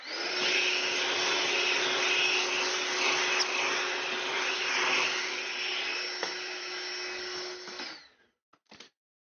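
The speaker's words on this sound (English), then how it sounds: "I'm just gonna vacuum this, pardon the noise." A vacuum cleaner runs loud and close while cleaning a computer logic board, a steady whining roar lasting about eight seconds before it cuts off, followed by a couple of brief handling clicks.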